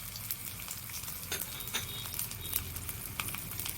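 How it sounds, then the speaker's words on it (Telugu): Onion, dried red chillies and tempering seeds sizzle in hot oil, a close, steady frying hiss scattered with sharp crackles and pops. "ఇప్పుడు మనం తాలింపు వేసుకోవడానికి కొంచెంగా ఆనియన్ నూనెలో వేసాను"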